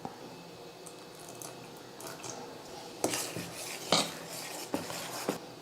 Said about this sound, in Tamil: இட்லிக்கு கொஞ்சம் தண்ணி ஊற்றி கலந்துக்கலாம்